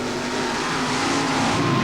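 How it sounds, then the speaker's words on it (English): A 500 cubic inch Keith Black engine in a paddle-tire mud racing altered runs at a 1991 Georgia event, a loud, sustained roar held steady and close throughout. "Larry D'Antoni, Gulfport, Mississippi, the Team Power Pro 23 altered, the big 500 cubic inch Keith Black engine. Motor's real fast"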